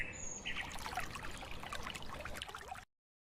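Water pouring and splashing in a steady trickle as someone washes their hands and face, close and fairly quiet, with faint bird calls in the background before it cuts off abruptly.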